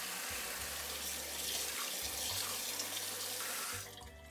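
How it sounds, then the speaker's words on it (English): Tap water runs steadily into a sink, rinsing noodles under the cold stream, then cuts off near the end. Close and fairly loud, with no voices. "Rinse them with cold water."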